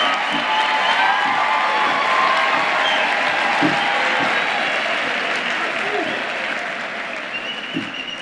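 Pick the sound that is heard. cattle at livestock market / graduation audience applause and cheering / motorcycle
graduation audience applause and cheering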